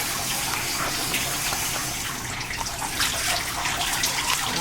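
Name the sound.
water poured to rinse a person's back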